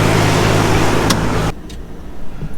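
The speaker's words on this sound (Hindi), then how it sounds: "अब एक बार इस गाड़ी को चला करके ज़रूर देखते हैं।" Hyundai Venue 1.0 turbo car driving, a loud, close, broadband road and engine roar that cuts abruptly to a quieter cabin hum halfway through.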